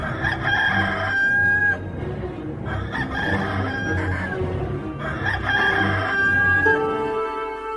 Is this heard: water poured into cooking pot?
no